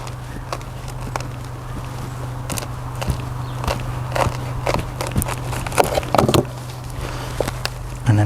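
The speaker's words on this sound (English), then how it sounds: "And you can hear that crunching as it cuts." A sharp knife slices down through the rootstock of a Lychnis chalcedonica clump, making a run of scattered close crunches and crackles over a steady low hum.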